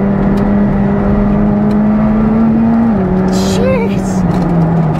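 A McLaren 765LT supercar accelerates with a loud, continuous engine drone, pitch climbing gradually and then dropping briefly at a shift before building again, close and sustained throughout.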